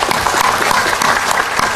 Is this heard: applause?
yes